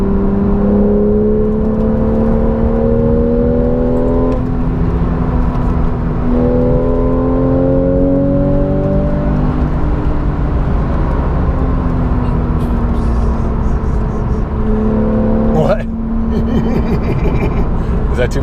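A Porsche 911 GTS engine revs under steady conversation inside the car, its tone climbing in repeated pulls that drop back between shifts, loud and close throughout.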